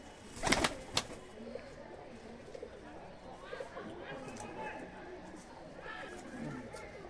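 Sialkoti Motiwala male pigeon released, with sharp wing claps near the start and then soft cooing among other pigeons, while people chatter and talk in the background.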